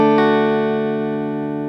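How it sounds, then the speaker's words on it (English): A single bright chord on plucked strings rings out and slowly decays, clear and close, with sustained overtones and nothing else around it. "You strum all 4 strings separately."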